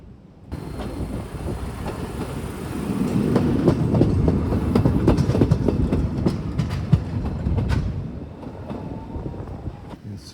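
A train running at Machiya station in Tokyo, a steady close rumble with rhythmic clicking of wheels over rail joints, swelling in the middle and easing toward the end, with wind buffeting the microphone.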